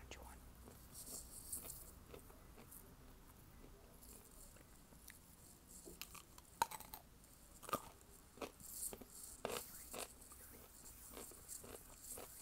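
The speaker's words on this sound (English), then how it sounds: "finish it off with a crunchy one." Close, quiet crunching and biting of a crisp snack, irregular sharp crackles scattered over about twelve seconds, louder bites toward the end, with soft whispery sounds.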